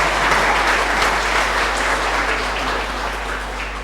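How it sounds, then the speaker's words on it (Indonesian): A congregation at a Saturday Easter Vigil Mass claps together in a church, a steady, fairly loud wash of applause that fades slightly over a few seconds, with a low constant hum underneath. "Tepuk tangan untuk mereka."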